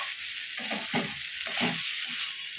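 Chicken is stirred and fried in a pan: a continuous close sizzle with rhythmic scraping strokes of the spatula recurring every half second or so, and no voices.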